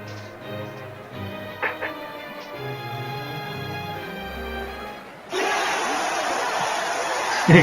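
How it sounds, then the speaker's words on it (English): In Suikoden Tierkreis, a game crowd roars with sudden loud massed cheering that surges in near the end, after quieter game music. "Crowd roaring."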